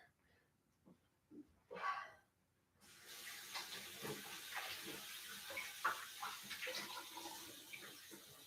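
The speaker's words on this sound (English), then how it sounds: "I'm going to have to rinse my hands" Tap water running into a sink while dough is rinsed off hands, a few faint bumps first, then a steady splashing stream that continues to the end.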